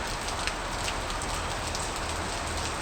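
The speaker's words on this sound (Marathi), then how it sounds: "सलग 3रा दिवस पाऊस पडतोय." Continuous rain pours over green paddy fields in rural Konkan, a close, uniform wash of falling drops with faint individual spatters and no voices.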